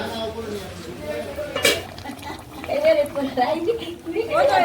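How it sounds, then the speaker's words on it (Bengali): A lid comes off a pot of chicken curry cooked with ground spice paste, giving one sharp metallic clink amid soft kitchen clatter while a person speaks nearby. "10 মিনিট বাদে ঢাকাটা তুলে নিচ্ছি।"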